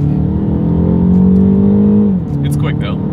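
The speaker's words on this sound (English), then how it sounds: "let's put the acceleration here to the test and let's see how quickly this thing is going to get us up to speed" A 2022 BMW 228i Gran Coupe turbocharged engine accelerates hard, its steady drone rising in pitch over about two seconds before easing off, heard from inside the cabin with people talking over it.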